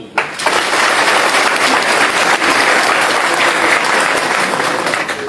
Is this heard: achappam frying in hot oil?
no